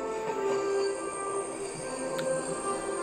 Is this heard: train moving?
yes